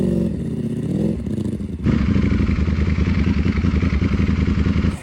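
A Ducati V4 Panigale rebuilt for offroad use climbs uphill, its engine loud and close with a sustained rough drone that steps up in pitch as it accelerates, with some clatter from the terrain.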